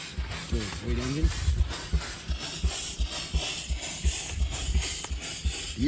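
An antique Waterloo stationary steam engine runs at an outdoor steam show, chuffing and clanking in a steady, rhythmic beat. It stays close and moderately loud, with crowd noise and voices in the background.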